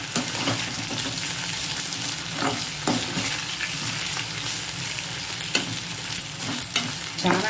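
Chopped ivy gourd sizzles and fries in a pan, steady crackling overlaid by repeated scraping and clinking as a spoon stirs it, close and fairly loud with no talking.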